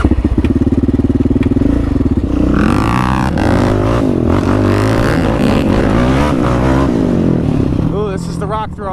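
A motorcycle is ridden close by, its engine note rising and falling through gear changes and throttle, with a clattering, bumpy rumble over uneven ground and a louder rev near the end.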